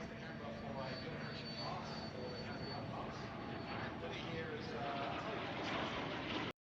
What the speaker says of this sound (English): a Cessna Dragonfly and a Canberra bomber also took to the skies